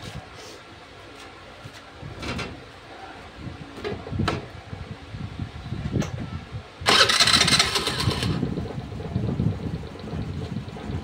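After several clicks and knocks, an engine starts with a burst and keeps running at a steady, moderate idle close by.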